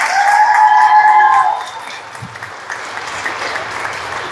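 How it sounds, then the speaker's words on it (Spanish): Audience applause after a conference on the Virgin of San Juan, loud clapping with cheering whistles that drops off after about a second and a half into scattered lighter claps. "El aplauso fuerte para el padre"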